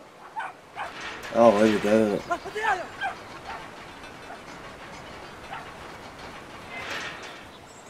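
A dog in the video game Brothers: A Tale of Two Sons gives a short burst of close, high barks and yips, followed by quieter scattered sounds while a person speaks briefly.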